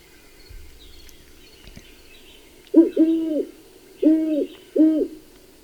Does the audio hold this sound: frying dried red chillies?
no